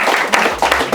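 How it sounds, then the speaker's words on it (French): An audience claps and applauds for Marie-Claude at a masterclass event, a brief burst of dense hand-clapping with some voices mixed in. "je pense qu'on peut applaudir vraiment très fort Marie-Claude"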